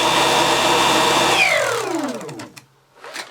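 A Dyson V11 cordless vacuum cleaner winds down: a steady whirring motor whine gives way to a falling, descending whine as it spins to a stop, followed by a couple of soft knocks nearby, with no voices.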